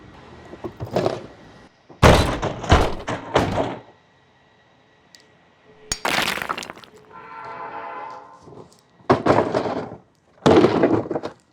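A Milwaukee PACKOUT drawer drops off onto the ground with a loud hard plastic crash and clatter, followed by sliding and rattling impacts, several sharp bangs spread over a few seconds with quiet gaps between.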